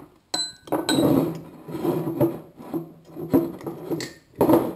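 A spoon scrapes and clinks against a bowl while flour, sugar and baking powder are stirred for a blackcurrant mug cake, with close, uneven rasping strokes and occasional sharp taps.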